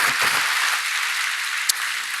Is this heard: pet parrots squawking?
no